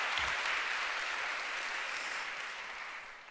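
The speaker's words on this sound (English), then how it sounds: "Another round of applause." An audience claps at a women-in-tech event, a dense even applause that holds steady and then tapers slightly toward the end, with no talking over it.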